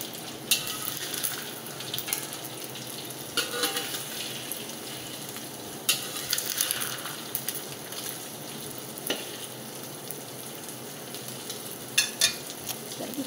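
Steady crackling sizzle of an omelette frying in hot oil, with occasional sharper pops and spatters throughout.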